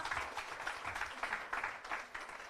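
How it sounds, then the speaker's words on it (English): Audience applause at a breast cancer awareness talk, a modest, fairly quiet patter of clapping with slight surges in rhythm, heard alone. "Can we have a little bit of an applause for that"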